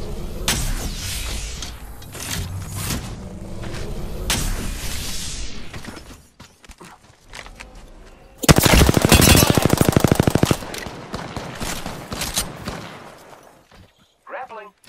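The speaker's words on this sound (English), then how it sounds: "Another squad is attacking us! Being shot at!" An enemy squad's gunfire in a shooter video game, with scattered shots and impacts mixed with excited talk, then a dense, loud burst of rapid automatic fire lasting about two seconds, followed by quieter game noise.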